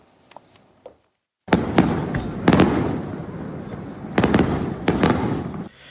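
Fireworks close a town festival in Sferracavallo, Palermo, exploding in loud booming bursts, several sharp cracks rising out of a sustained crackling roar, after a quiet moment with faint distant pops.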